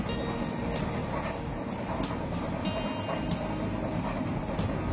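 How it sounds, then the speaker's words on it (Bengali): A steady passenger train rumble with rhythmic clacking from the rails, loud and continuous throughout, on a monsoon journey through the Dooars from Siliguri to New Mal Junction. "দেখতে দেখতে আমাদের ট্রেন ওদলাবাড়ি স্টেশন পেরিয়ে এলো।"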